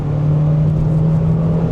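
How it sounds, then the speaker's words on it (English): Peugeot 206 GTI 180 hot hatch engine revving loud and close, a steady strong drone held throughout with no talk over it. "It's got a wonderfully charismatic engine"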